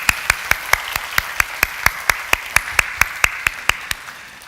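A church congregation at a Sunday worship service claps in unison, crisp evenly spaced claps at a quick steady beat that fade slightly at the end.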